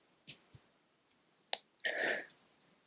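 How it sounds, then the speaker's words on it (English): Ratcheting clasp on a vintage Doxa dive watch bracelet clicking as it is tightened, a few sharp, close, quiet clicks spaced through the moment with a brief rasping slide. "there's a nice satisfying click as you tighten it up"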